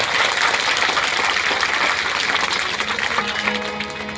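At a school event honouring a guest in Siwan, a crowd breaks into loud, dense applause close by that gradually thins and fades over several seconds, while tonal music or a held note creeps in at the end.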